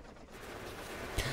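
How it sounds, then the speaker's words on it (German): Tank cannon fire with uranium ammunition in Factorio, heard as a dense, steady roar of rapid gunfire with one sharper, louder blast near the end. "Die Uranium-Munition. Guck mal, wie ich die platt schieße."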